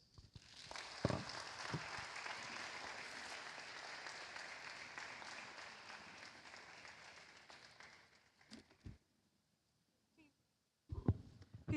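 Conference audience applause rises into sustained, fairly distant clapping for several seconds, fades out, then a few scattered claps and thumps follow.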